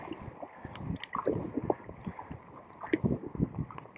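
Kayak paddle strokes dipping and splashing through tidal sea water off the Isle of Seil, a steady run of close, moderately loud splashes and gurgles with light wind noise.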